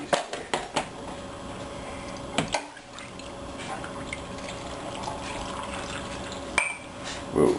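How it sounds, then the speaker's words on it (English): Water is poured into glass jars of lye-cured olives in brine, a steady trickle with drips and small splashes, fairly close, starting and stopping with a few knocks. "we're going to add the water."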